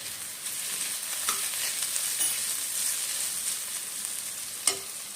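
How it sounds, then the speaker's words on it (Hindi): Cumin seeds sizzling steadily in hot oil in a pan, with a continuous bright frying hiss broken by a few soft clicks and scrapes of stirring, including one sharper scrape near the end. "इसमें ये आधा चम्मच जीरा ऐड करेंगे।"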